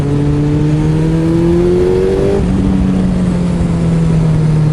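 A 2008 Suzuki Hayabusa motorcycle engine fitted with a timing retard eliminator revs loudly and close, its pitch climbing steadily before dropping sharply, then settling into a high, even drone.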